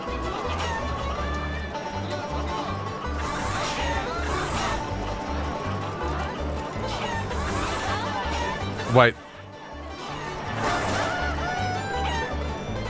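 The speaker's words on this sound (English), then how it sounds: "one of the chickens threatened my chicken." Chickens cluck during a chicken race in the game Yakuza 5 Remastered, with repeated clucks and honking calls running under steady talk from a player and a brief sharp sweep near the end.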